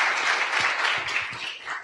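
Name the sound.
audience applause at a summit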